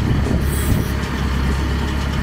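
Escorts Hydra 14 crane reversing, a steady heavy diesel rumble with a brief high hiss of air partway through, close and continuous with no speech.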